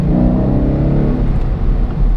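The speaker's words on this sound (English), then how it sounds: "I love the sound of this car." A 2012 Ford Mustang GT with the 5.0 V8 revving, a loud, deep, rumbling engine note heard up close and held steady for a couple of seconds.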